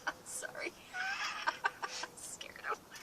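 Small wild birds chirp and flutter around a seed feeder outdoors, with quick, bright, irregular calls scattered through the moment, while a person speaks softly nearby.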